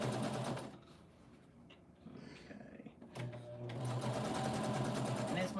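A sewing machine stitches a quilt seam in steady whirring runs at the start and end, with a quieter pause in between where someone talks.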